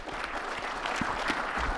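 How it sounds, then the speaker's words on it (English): A conference audience claps for two speakers as they are introduced, in a brief, soft, dense patter heard from the middle of the room. "Please give them a warm round of applause."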